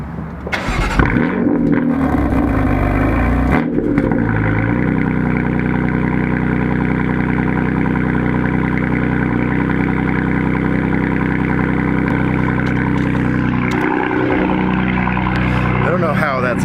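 A 2018 BMW F80 M3 with stock exhaust fires up and settles into a loud, deep, steady idle that rumbles close by, with voices talking over it.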